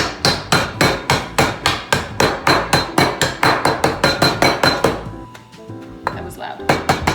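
Rapid, heavy thuds of a mallet pounding ice cubes in a canvas Lewis bag, about twenty strikes in a steady rhythm, then scattered lighter knocks.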